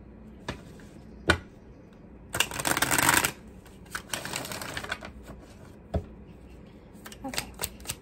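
Slippery tarot cards are shuffled nearby in a couple of short riffling bursts, separated by quieter taps and card handling.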